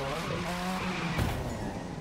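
A Mazda RX-7 drift build sliding in The Crew 2, engine whine rising and falling with a tire squeal and a brief loud thump midway, lasting about two seconds.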